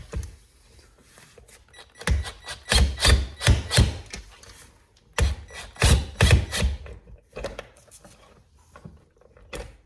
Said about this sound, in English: Looks like it's a T25 bit to get these screws out